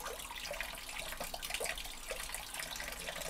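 Water surges upward through a gold drop concentrator, churning garnets as it flows, making a steady close splashing gurgle with rapid bubbly fluctuations and no pauses.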